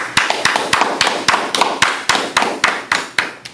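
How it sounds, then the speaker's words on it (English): A congregation claps in a steady, loud rhythm of sharp, evenly spaced hand claps at a Feast of Unleavened Bread closing service, with no talking over it. "Right, clap it up."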